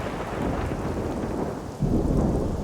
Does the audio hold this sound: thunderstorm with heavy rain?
yes